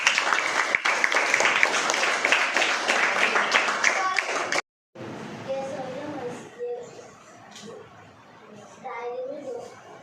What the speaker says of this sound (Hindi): अच्छा, इसके लिए ताली बजाएंगे हम लोग।